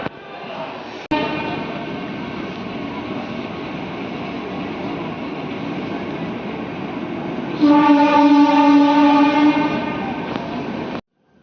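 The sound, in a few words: Lucknow Mail train departing Alamnagar station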